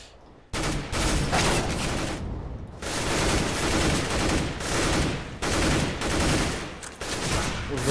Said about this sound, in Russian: Ужасная стрельба от Данди